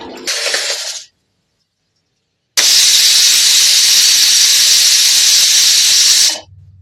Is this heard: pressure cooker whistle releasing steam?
yes